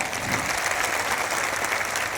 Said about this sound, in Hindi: उनके लिए तालियां बजाऊंगा